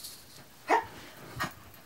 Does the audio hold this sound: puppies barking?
yes